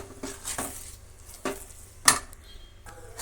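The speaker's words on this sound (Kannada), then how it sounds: "ನೋಡಿ ಈಗ ನಿಧಾನಕ್ಕೆ ಫ್ರೈ ಮಾಡ್ಕೊಳ್ಳೋಣ. ತಲ ಹತ್ತಿದಿರ ಸಿಮ್ನಲ್ಲೇ ಒಂದು ಸ್ವಲ್ಪ ಹೊತ್ತು ಹಾಗೆ ಕಲಸಿ." Six eggs fry on a low flame while a utensil stirs them in the pan, producing a few sharp clinks and scrapes against the metal over a faint background.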